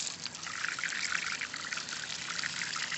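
Water from a hose is poured under pressure into a hole in the ground to bring worms up, producing a continuous close trickling, gurgling flow.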